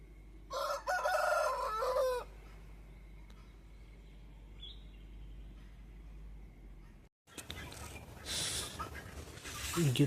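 A rooster crows loudly near the start, followed by quieter hen clucks over a steady low hum and background noise.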